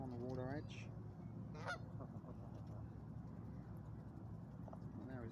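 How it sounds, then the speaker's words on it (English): A goose honks a few times while feeding on crackers outdoors near a waterside beach, its nasal calls standing out over a steady background of wind and water noise. "the goose really does want his crackers all to himself"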